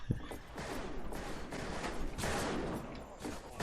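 Western-era guns firing in the multiplayer game Fistful of Frags, several loud, sharp cracks scattered across a busy, noisy battle bed with no voices.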